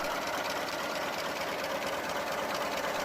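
A Berliet CBA truck from around 1917, powered by a large 4-cylinder gasoline engine, runs with a steady, dense mechanical clatter and hiss, continuous and even throughout, with no voices.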